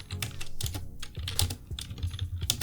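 Quick, steady clatter of keys as a terminal command is typed on a computer keyboard while installing WordPress on a server, close and continuous with no voices.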